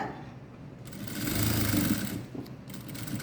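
A sewing machine stitches the neck of a blouse, giving a steady, close mechanical whir that swells and eases over a few seconds with a short pause near the end.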